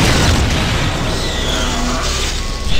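In System Shock 2, a pop gun fires a loud, heavy boom that swells and stays dense for several seconds, filling the space close up with no talk over it.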